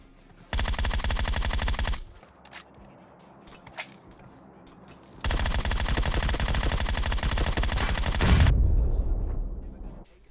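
Rapid automatic fire from a Groza rifle in a shooter video game, two long loud sustained bursts separated by a brief gap with a few scattered shots in between.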